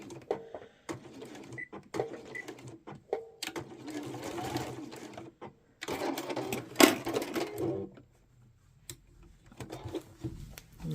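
Sewing machine back stitching through thick quilted layers of a hot water bottle cover, uneven bursts of close mechanical whirring and knocking separated by pauses and clicks.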